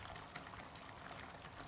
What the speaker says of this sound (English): Boil on high roughly 5 minutes, or until it passes the cold plate test.